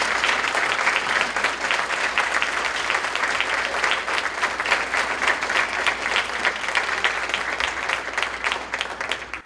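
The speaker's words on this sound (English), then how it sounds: "So give him a round of applause even though he's not here." Sustained audience applause at a Boys & Girls Clubs awards night, dense steady clapping from a large crowd that keeps going without a break.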